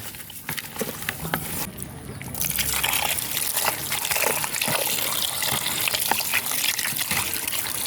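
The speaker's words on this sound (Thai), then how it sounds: "ล้างสักประมาณน้ำหนึ่งน้ำหรือสองน้ำก็ได้นะคะ" Fish are washed by hand in a basin of water to rinse off slime before being filleted for sun-dried fish, with steady sloshing and splashing that grows fuller after a quieter start and continues close by without talk.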